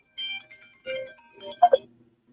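A phone ringing for an incoming call: a few short electronic tone bursts, close and fairly clear, with quiet pauses between them and no talk.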